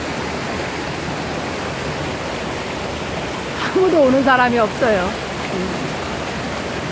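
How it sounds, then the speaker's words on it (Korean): A mountain stream swollen by heavy overnight rain rushes and roars like a waterfall, a loud, steady broadband wash filling the whole stretch, with a person speaking briefly over it partway through. "계곡이 저기 폭포수가 돼버렸습니다. 물소리가 엄청나게 자극을 하고 있네요."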